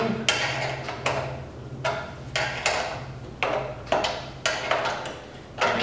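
Ratcheting on a bolt during assembly of a Tow and Collect Mini 700/1220 towed collector machine, heard as a regular run of sharp metallic clicks in short bursts, close and fairly loud, with a low hum beneath.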